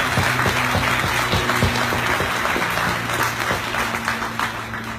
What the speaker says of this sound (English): let's give a round of applause for Kay Schwartz.